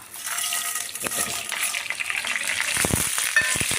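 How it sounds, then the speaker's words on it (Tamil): Urad dal and chana dal frying in hot oil, a steady bright sizzle with a few clinks and stirring sounds, heard close up with no voices. "எண்ணெய் காஞ்சி உளுத்தம் பருப்பு கடலப்பருப்பு காஞ்சி"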